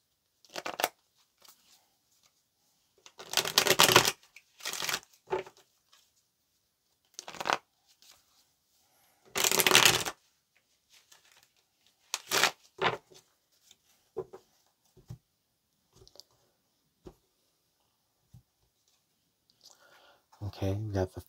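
Tarot cards being shuffled in several separate bursts of riffling and bridging, close and fairly crisp, with quiet gaps and soft handling between them and no talking.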